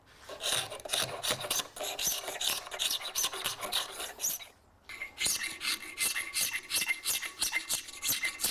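A hand file rasps back and forth across wood in quick, rhythmic strokes, close and clear, with a brief pause midway before the filing resumes.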